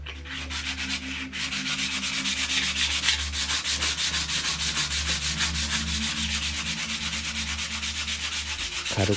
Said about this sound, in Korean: 사포를 이용해 표면을 정리해보고자 한다